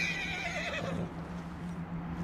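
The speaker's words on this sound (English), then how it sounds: "Now let me go to calm the horse." A horse in Red Dead Redemption 2 gives a single loud, wavering neigh inside a barn, followed by a quieter snort and soft hoof shuffling with no talk over it.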